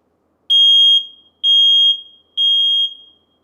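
A home smoke detector sounding during a button test gives three loud, piercing high-pitched beeps, each about half a second long and evenly spaced, with silence between them and no talking.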